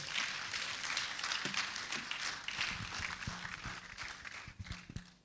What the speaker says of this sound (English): please let me hear that round of applause